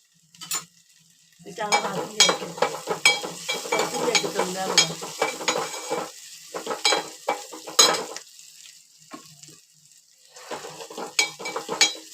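Grated ginger sautéing in a hot tempering for a colocasia leaf curry, with steady sizzling broken by repeated spoon-against-pan stirring and scraping, close and fairly loud, with brief pauses.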